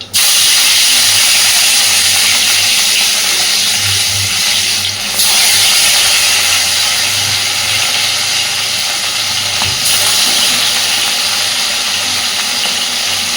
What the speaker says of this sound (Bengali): একইভাবে বাকি সমস্ত মাছগুলোকেও আমি ভেজে দেব